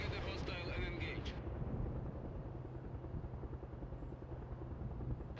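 A Mi-24 helicopter in the video game World in Conflict flies in at full speed as a steady, loud, dense rotor-and-engine rumble that fills the scene throughout, with brief faint radio-like voice sounds near the start.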